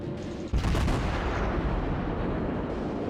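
Warship guns fire in World of Warships, a sudden heavy boom followed by a long, rumbling roar of naval artillery. The sound is loud and close, and no voice is heard.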